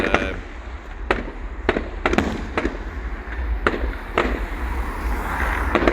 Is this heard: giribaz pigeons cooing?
no